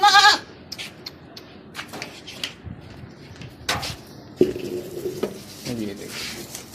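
Goats bleating at home while waiting for dry lucerne feed, a sharp bleat at the start with further calls and shuffling, clattering noises through the rest, close by and with some talk.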